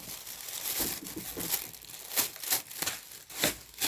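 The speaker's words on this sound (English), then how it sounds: "just cut them." Paper or craft material crinkles and snips in short bursts while pieces are cut out for a homemade watermelon fidget toy, close and fairly quiet, with no talking.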